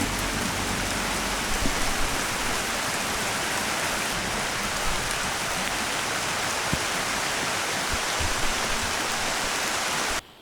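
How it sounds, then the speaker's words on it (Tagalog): Heavy rain pours down steadily in a forest during a motorcycle camping trip, a dense, loud hiss of drops drumming on surfaces for the whole stretch before it suddenly cuts off, with no voices. "Malakas ang ulan."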